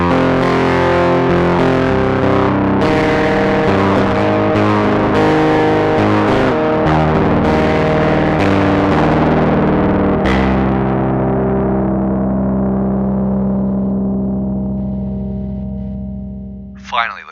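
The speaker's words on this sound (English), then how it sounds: "Now up to thicker, fatter fuzz." Electric guitar through a fuzz pedal set to a thick, fat fuzz tone, with several loud distorted chords and riffs followed by a long sustained chord that slowly rings out, alone and close.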